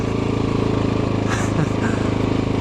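Honda XR650L single-cylinder motorcycle on a fresh rear tire, engine thumping steadily and close while riding, with brief wind rush over the pulsing exhaust note.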